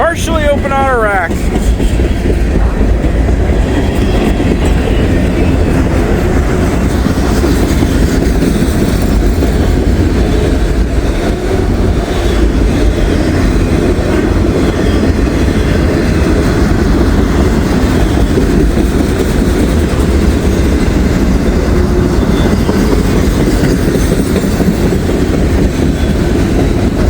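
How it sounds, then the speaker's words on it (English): A long CSX or Norfolk Southern freight train with auto racks rolls past at night, a loud, steady rumble with rhythmic wheel clatter that lasts the whole time, a short squeal at the start. "We got a good train here."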